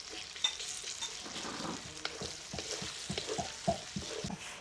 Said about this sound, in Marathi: कांदा पण लगेच टाकून घेऊ कांदा आपल्याला चांगला फ्राय करून घेऊया